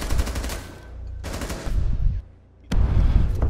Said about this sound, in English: Oh, Outcast, why are you shooting single fire?